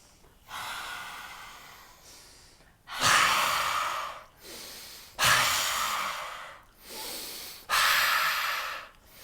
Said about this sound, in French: donc la respiration du lion, super sympa